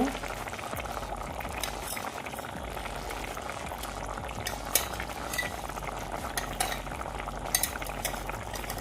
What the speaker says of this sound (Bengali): জলটা শুকিয়ে গেছে এবার আমি এর ভিতরে মাছটা দিয়ে দিব